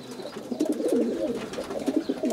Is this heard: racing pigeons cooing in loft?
yes